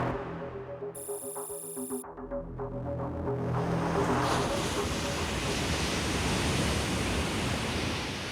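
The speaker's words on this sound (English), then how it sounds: "Here is an actual gap with water streaming through." Flood water of the Yellow River streaming through a breach in its bank, a steady loud broadband roar and rush that builds and then holds, with no voices over it.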